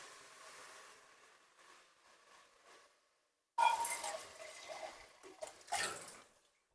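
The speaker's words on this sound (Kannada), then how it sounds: "ಇವಾಗ ನೀರು ಹಾಕಿದ್ದೀನಿ." Water is poured into a cooking pan of tomatoes for dal pappu: after a quiet stretch, a sudden, loud splashing, sizzling rush starts and continues for about three seconds before easing off.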